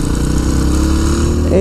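A Yamaha WR250R dual-sport motorcycle engine drones loud and steady while riding, a constant close-up hum that holds an even tone throughout the short stretch, with a brief rising whine near the end.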